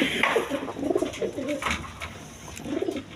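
Pigeons cooing steadily inside a pigeon dealer's coop, several soft overlapping coos close by, with faint rustling and no talk.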